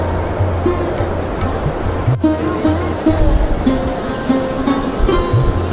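Ocean surf rolls continuously along Puri's Golden Beach in Odisha, a steady broadband wash of breaking waves with no clear gaps, with faint tonal background sounds and a brief sharp click partway through.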